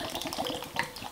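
A 400 ml can of unsweetened evaporated milk is poured into a slow cooker for a soup, giving a brief, steady liquid splashing that lasts about a second.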